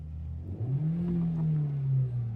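A car engine revs briefly as the accelerator is pressed, with the pitch rising and falling in a short, close, steady rev with no talk.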